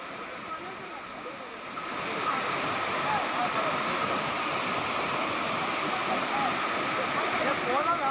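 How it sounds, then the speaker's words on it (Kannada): Sirimane waterfall in Sringeri plunges from a great height over rock boulders, a dense continuous roar that swells after the first couple of seconds and holds steady. "ಶೃಂಗೇರಿಯಲ್ಲೇ ಇರುವಂತಹ ಸಿರಿಮನೆ ಜಲಪಾತ ಧುಮ್ಮಿಕ್ಕಿ ಹರಿತಾ ಇದೆ"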